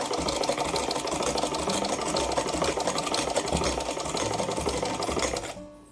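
A hand-operated USHA straight-stitch sewing machine runs in a continuous, close, evenly rhythmic clatter of needle strokes, then stops abruptly near the end.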